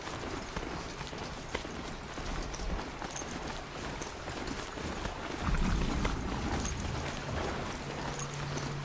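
Hoofbeats of a ridden horse mount in the video game Horizon Zero Dawn clop steadily through a dense, noisy game soundscape, with a louder low rumble partway through.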